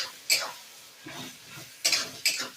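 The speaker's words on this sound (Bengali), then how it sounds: "দিয়ে এবার সব মশলাগুলোকে আমি ভালো করে কষিয়ে নেব।" Spices for a fennel chicken curry are stirred and scraped around a pan with a utensil, giving a few sharp clanks and scraping strokes with soft frying underneath, close and distinct.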